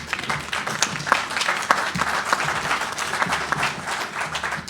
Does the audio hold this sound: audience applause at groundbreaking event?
yes